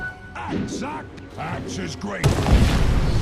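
In a Dota 2 match, a Techies remote mine goes off as a sudden, broad, rumbling blast that follows game sounds and a talking voice, then keeps rumbling to the end.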